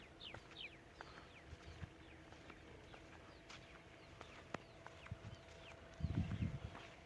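Scattered bird calls and chirps repeat throughout, faint and distant over a steady outdoor background, with a brief low rumble near the end; no one speaks, during a parrot-hunting outing in Jacobabad.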